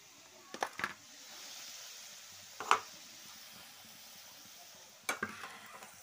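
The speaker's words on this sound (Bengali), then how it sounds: "তো আমি এখন গ্যাসে এগুলো ভাজছি" Vegetables fry on a gas stove during an outdoor picnic, with a faint low sizzle underneath and three separate bursts of sharp stirring and scraping clatter.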